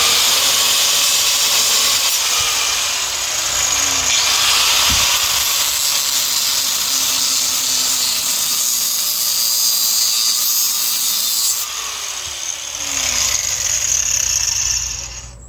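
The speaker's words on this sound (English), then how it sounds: "So you keep a good hold on that angle grinder while you're using it" An angle grinder cuts into an old engine from an antique tiller, a loud, continuous high-pitched whine with shifting pitch sweeps as the disc bites, running steadily and easing off near the end.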